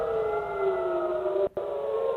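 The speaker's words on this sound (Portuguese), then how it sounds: "a sirene vai tocando para alertar a população" Civil defense siren sounding a missile warning in Israel, a loud steady wail with layered tones holding throughout, briefly cut off near the end before resuming.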